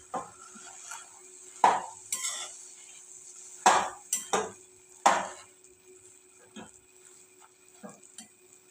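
Carrot halwa with sugar being stirred in a pan, a spoon scraping and knocking against the metal in several sharp, uneven strokes with quiet pauses between, close and fairly loud, no talking.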